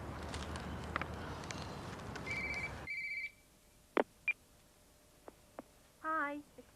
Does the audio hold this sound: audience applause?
no